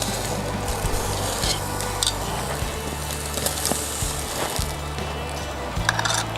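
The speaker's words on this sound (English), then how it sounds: "So we'll sear that, and then we'll do the other side" A porterhouse steak sears in a hot pan after being flipped, giving a loud continuous sizzle with occasional soft scrapes and knocks, and no talking.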